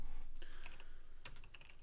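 Quick bursts of clattering keystrokes on a computer keyboard, close and fairly quiet, in uneven clusters with short pauses between them.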